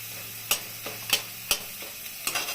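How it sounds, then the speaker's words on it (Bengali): Potatoes fry in a pan with a soft steady sizzle, broken by four or five sharp clinks of a utensil against the pan and a few softer stirring sounds. "আলুটা ভাজা হয়ে গেছে"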